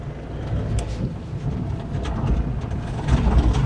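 A Citroen Berlingo van driven in second gear at about 10 mph with its engine running poorly, a loud, steady low rumble and road roar heard from inside the cab, swelling slightly toward the end.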